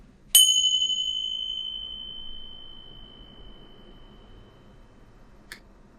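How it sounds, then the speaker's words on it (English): A single bright bell strike rings out and sustains with a long, slowly fading tone, followed by a faint second tap near the end against quiet background. "for those with my headphone people, it's going to be a ringing sound."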